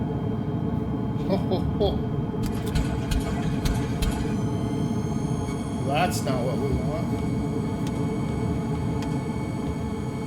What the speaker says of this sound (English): That's an engine failure.